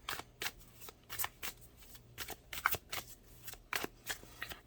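Tarot cards are shuffled by hand in repeated crisp riffling bursts, close and clear, with short pauses between the flurries and no voice.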